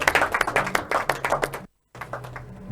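A small audience claps at an official launch event, giving a brisk, close run of individual hand claps that breaks off briefly, then resumes more softly.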